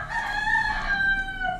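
A rooster crows once, a long loud drawn-out call close by, with no talking.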